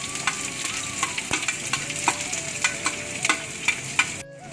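Mustard seeds, shallots and garlic frying in hot oil, a steady crackling sizzle with frequent sharp pops and spatters of seeds, close and fairly loud, cutting off abruptly at the end.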